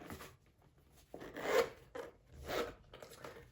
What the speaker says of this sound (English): So it has a zipper that goes all around it.